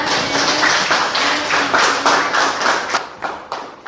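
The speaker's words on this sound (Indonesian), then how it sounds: "beri aplaus buat semuanya" Students in a classroom clap together for everyone after a history quiz, producing a steady, fairly loud burst of group applause that thins toward the end.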